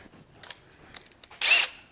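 A power drill with a quarter-inch bit gives a short, loud high whir for a moment after a few faint clicks and handling sounds.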